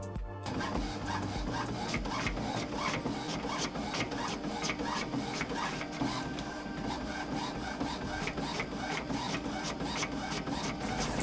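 An Afinia L502 colour label printer runs through a print job, a steady close mechanical whir with a fast regular ticking pulse throughout.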